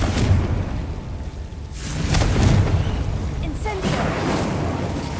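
Fiery spell blasts in Hogwarts Legacy go off as a couple of loud booming bursts, each swelling and rolling away into a broad crackling rumble.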